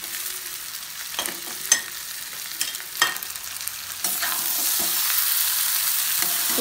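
Village-style chicken fry being stirred in a pan with fresh coriander, a soft sizzle under several distinct spatula scrapes and knocks, the frying growing brighter and louder toward the end, with no voices.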